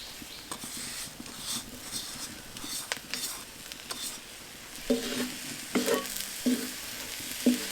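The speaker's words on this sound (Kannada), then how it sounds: "ಬೆಲ್ಲ ಮತ್ತು ತೆಂಗಿನಕಾಯಿ ತುರಿಯನ್ನು ಚೆನ್ನಾಗಿ ಮಿಕ್ಸ್ ಮಾಡಿಕೊಳ್ಬೇಕು" Spoon stirring jaggery and grated coconut in a pan, soft scraping and gentle sizzle with occasional light clinks of utensil against metal, close and steady.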